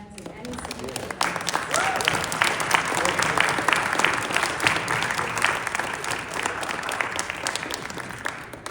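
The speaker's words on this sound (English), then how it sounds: "graduates, please stand and turn and applaud your parents, your spouses, children, relatives, and friends" Nursing graduates at a pinning ceremony applaud, the clapping swelling quickly after a quiet start into a full steady wash of hands, with some voices murmuring underneath.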